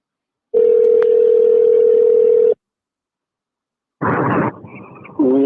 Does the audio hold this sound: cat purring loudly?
no